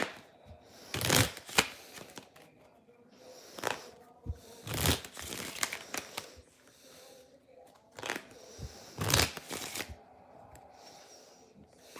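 Tarot cards are shuffled in short riffling bursts, roughly four sharp flurries spaced a few seconds apart, with quiet handling sounds between them.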